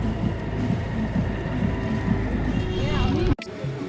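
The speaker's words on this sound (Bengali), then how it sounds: "আমাদের বোট চলে এসছে" A motorboat idles near a Lakshadweep island shore. Its engine chugs low and steady for a few seconds and is close and loud, then the sound breaks off sharply near the end.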